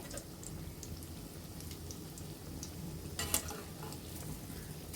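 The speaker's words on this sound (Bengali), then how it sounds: "একে একে আমরা কাবাবগুলো দিয়ে দিয়েছি চুলার আঁচটা মিডিয়াম টু লোতে রেখে ভাজতে হবে" Mutton tikia kababs frying in a pan over medium-low heat, a soft continuous sizzle and crackle with scattered small pops and one brief louder spatter, close and steady with no talk.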